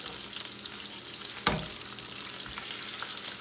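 Garlic cloves and cumin frying in oil over a low flame, a steady close hiss of sizzling with one sharp utensil clack partway through; nobody speaks.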